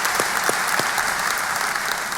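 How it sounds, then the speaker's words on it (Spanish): Strong, dense applause from a congregation at a church service, a close, continuous roar of clapping with a few sharper individual claps standing out. "Fuerte aplauso, fuerte aplauso."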